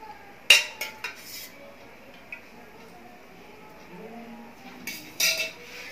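Oil spooned into a kadhai on a gas stove: a few metallic clinks and taps of the spoon against the pan, spread out and fairly close, over quiet kitchen background.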